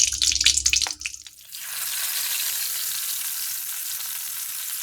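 Quail pieces frying in hot oil for a Tamil-style kaadai fry: a burst of clattering, stirring and dripping gives way to a steady, bright, even sizzle that fills the rest of the clip at close range.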